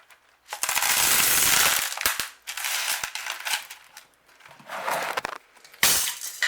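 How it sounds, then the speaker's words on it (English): Horticultural grit is poured into a plant pot in several separate bursts, each a dense gritty rattle of small stones, with brief clicks and pauses between the pours. "I'm going to put some horticultural grit on now"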